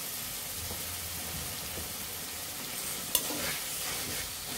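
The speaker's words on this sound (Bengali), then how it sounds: "টমেটো কুচিটা ভালোভাবে কষিয়ে নিতে হবে।" Chopped tomatoes sautéing in ground spice masala in a pan for a sarputi fish curry, a soft, continuous sizzle with scraping stirs and one sharp clink of utensil on metal, no voices.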